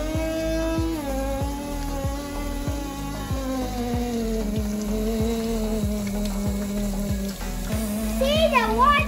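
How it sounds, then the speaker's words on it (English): A small homemade water pump powered by a 9V battery runs with a fast ticking motor pulse while water trickles and gurgles, and someone talks over it throughout. "See, the water is running!"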